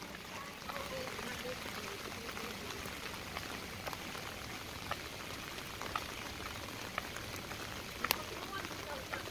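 Rain falling outdoors on the way to a beach in Hong Kong, a steady hiss with scattered sharp drips and taps on surfaces, close and continuous, with faint talk mixed in.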